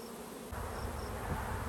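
Honeybees buzz steadily around a swarm trap, a dense continuous hum of many insects close by, with no voices.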